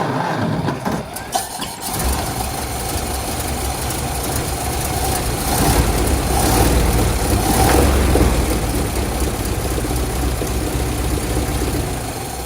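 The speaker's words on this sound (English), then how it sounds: "I think I should start the car and make sure it's working right." A 1928 Ford Model A engine cranks and catches, then settles into a loud, steady running drone close by that swells slightly midway, with its carburetor fed fuel directly.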